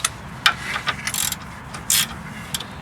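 A ratchet with a 14 mm socket works on the tie rod nut of a 2010 Nissan Rogue, giving a few sharp, irregular clicking bursts with short pauses between them, close up and alone.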